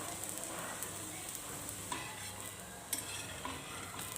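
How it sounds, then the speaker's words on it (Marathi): A besan poli flatbread fries in oil on a pan with a constant, moderately close sizzle, broken by a few soft scraping touches. "दोन मिनिटांनी पोळी पलटून घ्यावी आणि दुसऱ्या बाजूने सुद्धा तेल सोडून घ्यावे"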